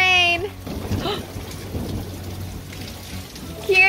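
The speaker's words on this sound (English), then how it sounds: "Can you guys hear that thunder?" Heavy summer rain pours steadily with a low rumble of thunder underneath; brief tonal chirps sound at the start and end.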